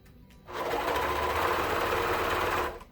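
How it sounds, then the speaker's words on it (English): A serger sewing machine stitches elastic onto a swimsuit in a single steady, loud whirring run of about two seconds that starts and stops cleanly, with quiet before and after. "Once you serge that part, do it again."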